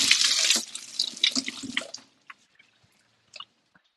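Cold tap water runs over hands at a sink, a loud steady splashing rush for two seconds that stops abruptly, leaving a few faint scattered drips.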